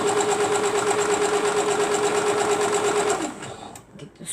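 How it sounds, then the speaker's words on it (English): Sewing machine stitching fabric runs with a steady, fast whirring buzz for about three seconds, then stops, leaving light handling noises close by. "Now, we are going to sew it down"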